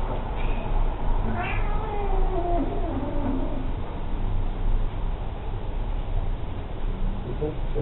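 A large cat named Lissu lets out a drawn-out meow and a few shorter mews early on, close and clear, while a person speaks softly nearby.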